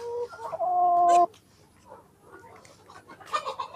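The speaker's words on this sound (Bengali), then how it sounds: "এই যে মুরগির এই শব্দ মানে কি জানেন" Layer hens cluck and squawk up close, with one drawn-out call at the start followed by scattered softer clucks from the flock.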